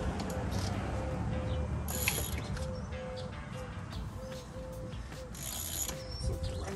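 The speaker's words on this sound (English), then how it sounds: "Slip the wrench in place." A wrench ratchets in steady, evenly spaced clicks while fitting a Rally-Raid shock upgrade on a Honda CRF300L. The clicking is close and moderately quiet over a constant mechanical hum.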